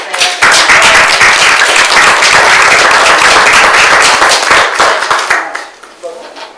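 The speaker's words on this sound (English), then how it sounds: "I think we deserve a round of applause for our Yes. Laura staff." Applause from the room at a city council meeting, honouring city staff after a motion carries: dense clapping that starts abruptly, holds steady and loud for about five seconds, then thins and fades.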